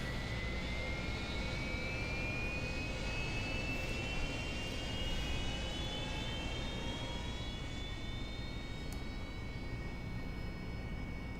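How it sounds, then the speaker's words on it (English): A Harrier jump jet engine idling steadily in the DCS flight simulator, a constant loud jet whine with slowly rising high-pitched tones over a broad rushing roar, alone and without talking. "Alright, engine's up and running."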